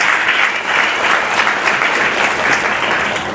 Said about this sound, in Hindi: ताली बजाकर प्रभु के नाम का महिमा कर।